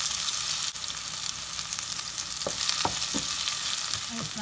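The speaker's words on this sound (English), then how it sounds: "Fry the onions for 1 minute." Onions frying over medium heat in a pan for a chicken curry, a continuous bright sizzle with several sharp clicks of a spatula stirring near the end.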